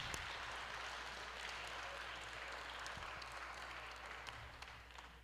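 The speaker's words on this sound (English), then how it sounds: "Let's give our graduates one more round of" Applause from the audience for graduates at a charter high school ceremony, a fairly quiet, even patter of clapping from a crowd that slowly tapers.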